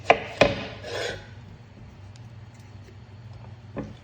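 A knife cuts the end off a long brinjal on a board, giving two sharp close cuts in quick succession, a soft rub, then a fainter tap near the end.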